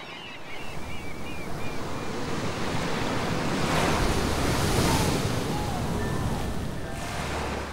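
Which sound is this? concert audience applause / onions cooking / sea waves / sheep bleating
sea waves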